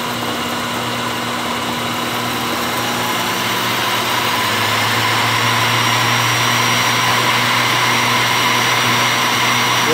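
An Atlas 12 inch metal lathe driven by a treadmill motor under a simple speed controller, spinning near 1,000 RPM with a steady, loud whine and hum that builds slightly and stays constant throughout.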